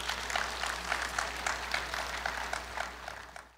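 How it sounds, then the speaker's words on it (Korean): A crowd at Korea University's 111th anniversary ceremony applauds in a large hall, a steady wash of many clapping hands that fades slightly at the end. "감사의 박수 부탁드립니다."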